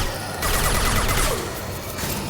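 Gunfire during a fight against a zombie horde in the video game Mass Effect 2: dense, continuous crackling shots blended into busy game noise throughout.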